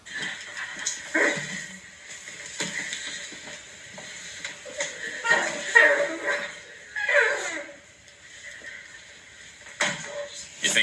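A voice imitates a dog with scattered whimpers, yips and short bark-like cries, close and moderately loud, with brief pauses between them.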